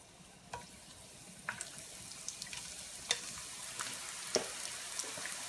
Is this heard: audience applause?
no